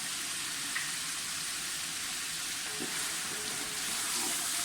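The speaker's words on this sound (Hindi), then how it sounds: "ये वो मसाला है जो मैंने ग्राइंड कर लिया है, बिरयानी मसाला, सिंधी बिरयानी मसाला।" Ground Sindhi biryani masala goes into a hot pan, and a steady, close sizzle of frying holds evenly throughout with no voices.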